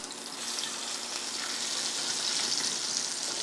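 Food fries in butter in a pan, giving a steady, close sizzle and crackle that runs evenly throughout with no talk.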